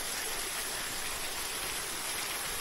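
Shancha waterfall flows with a steady, dense rushing roar of falling water, continuous and fairly close, with no speech over it.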